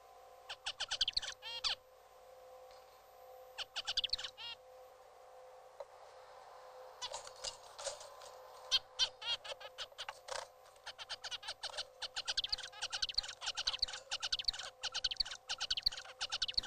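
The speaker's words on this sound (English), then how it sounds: "This finch is currently alone, but look how his song changes when put in the presence of two attractive females." A male finch sings its courtship song to females, a rapid run of high chirps and trills. It sings in bursts, pauses briefly, then continues in a longer, denser stretch, close and clear over faint background noise.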